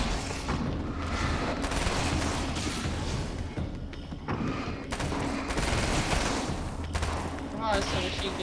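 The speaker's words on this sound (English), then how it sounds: "Don't worry, I got some machine gun." Machine gun fire in the game Alan Wake's American Nightmare, dense rapid bursts and booms in near-continuous volleys with brief lulls, mixed with game effects.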